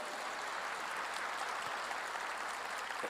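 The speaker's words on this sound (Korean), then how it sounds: "믿는 사람만 박수 치시기 바랍니다." A church congregation claps during a sermon, a steady, diffuse patter of many hands at moderate distance that holds evenly from start to finish.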